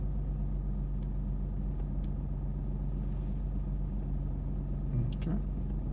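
A car backing up slowly while parallel parking, heard from inside as a steady low engine rumble at idle-like speed, constant and unchanging, with no talk in the clip.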